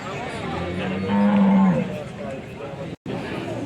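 A cow at the Punganur cattle market gives one loud, close, drawn-out moo, with market crowd noise and voices around it.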